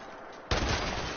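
A shotgun fires once in the video game Fallout 76, a single sharp loud blast halfway through that booms and lingers briefly over a quiet game background.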